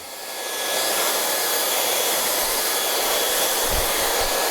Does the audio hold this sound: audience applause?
no